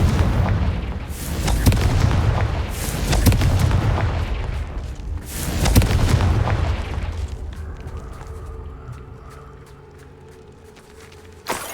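Fiery Confringo spell blasts in the Hogwarts Legacy video game, loud booming explosions rolling out in several heavy bursts over about seven seconds before settling into a quieter ambient hum.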